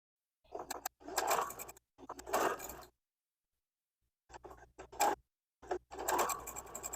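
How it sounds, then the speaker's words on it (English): Sewing machine chain-piecing a quilt block, played sped up, in several short bursts of rapid whirring stitching separated by pauses, close and moderately loud with no talking. "I will be speeding up the sewing on camera so that you can follow it"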